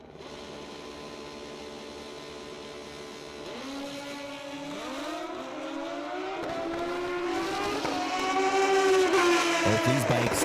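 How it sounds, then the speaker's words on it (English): Nitrous-equipped drag racing motorcycles in a competitive class at the Fuel Tech World Finals roar down the track, engines rising in pitch through rapid gear changes and growing steadily louder toward the end. "Both these bikes definitely have nitrous on them as they go down the racetrack"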